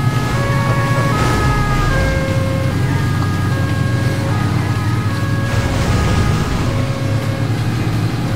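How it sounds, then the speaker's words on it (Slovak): Police car siren in the video game Alarm for Cobra 11 Nitro, a steady repeating two-tone wail that runs loud and continuous over rushing engine and road noise. "Policajné auto."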